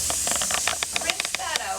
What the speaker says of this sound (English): spray this one twice in there, making sure all the hair is gone